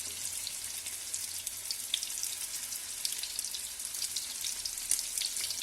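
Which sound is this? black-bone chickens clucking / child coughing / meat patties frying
meat patties frying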